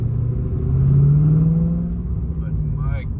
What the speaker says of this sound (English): I could just get used to revving this thing out no matter what the fuel economy is or lack thereof.